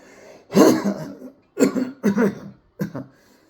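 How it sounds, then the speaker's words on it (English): Several harsh, close coughs linked to Tourette's come in quick bursts: one heavy cough, then a pair, then a smaller one, with short pauses between. "Apologize for my cough."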